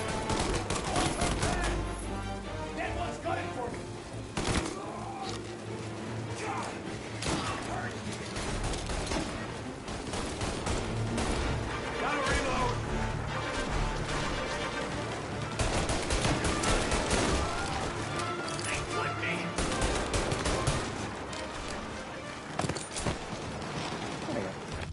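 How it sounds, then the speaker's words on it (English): Shotgun and other gunfire from the game Mafia Definitive Edition, dense volleys of shots and blasts running continuously under a busy mix, with talk over the shooting. "I love how their shotguns are so good"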